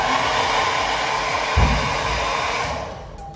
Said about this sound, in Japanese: あとはドライヤーで髪乾かして